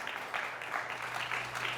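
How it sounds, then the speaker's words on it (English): A quiz-bowl audience applauds the Galena Pirates team, a fairly faint, steady patter of clapping heard from some distance. "Let's have a nice round of applause for the Galena Pirates."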